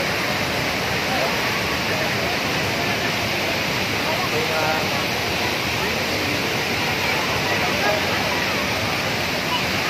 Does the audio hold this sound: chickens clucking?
no